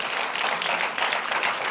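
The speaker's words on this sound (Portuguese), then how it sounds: "Eu acho que estes aplausos são extensíveis também aqui ao Pedro" An audience at a comedy show applauds, a dense, steady wash of clapping heard alone at moderate loudness for the whole stretch.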